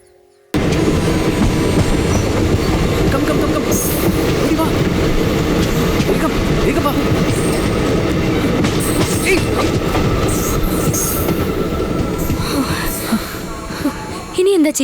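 A train rumbling past with continuous loud rolling and clickety-clack of wheels, some squeal, while people talk over it.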